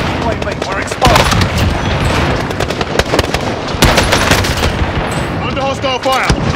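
M1 Garand fire and other gunshots in Call of Duty Warzone, loud repeated cracks and rapid bursts over a constant battle roar, with voices calling out in between.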